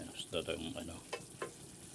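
Vegetables for ginisang gulay sizzle and crackle steadily in a pan while a utensil stirs them in a few light scraping strokes. Moderately faint and continuous, with no talking.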